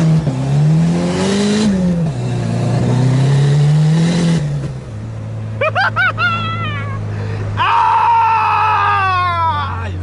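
Car engine revving hard with its turbo muffler released, loud rising and falling engine tones and sharp whistling turbo bursts, close up, with a voice heard over the revs.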